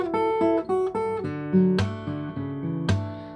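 Guitar intro riff of a song, a bright picked melodic line of ringing notes with a couple of strummed accents, close and clear with no speech.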